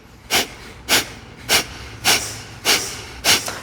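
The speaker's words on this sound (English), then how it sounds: "for 1 minute, we're doing breath of fire" Breath of fire, a rapid rhythmic yogic breathing exercise: six sharp, forceful nasal exhalations at an even pace about every half second, close and loud, with no talking.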